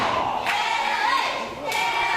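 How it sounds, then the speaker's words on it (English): A live wrestling-show crowd cheers and roars, a dense wash of voices with a couple of sharp thuds or shouts rising out of it, loud and close. "This crowd really taking to Dave Jeremy"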